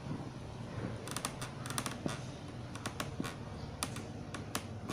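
A Razer Deathstalker Essential keyboard gives off an odd rattling clack: a series of sharp, irregular clicks over a faint background hum, close and fairly quiet.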